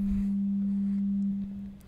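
A pure steady sine wave tone from an ARP 2600 synthesizer, a single sustained pitch held clearly and loudly, then dropping slightly in level near the end.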